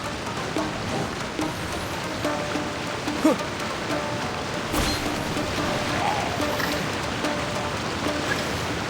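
A rain effect from the Genshin Impact video game produces a soft, steady hiss of falling rain with a few faint taps and one sharp burst midway.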